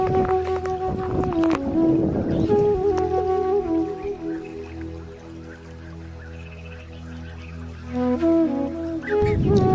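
A boat travels along a fast, cold river near Zulia island on an outdoor outing, giving a loud, steady drone with wind and water noise throughout.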